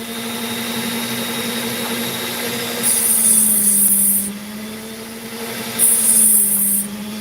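A power tool grinds opal, its motor holding a steady droning hum while two loud, high, hissing bursts of grinding come as the stone is pressed to the wheel, each lasting over a second.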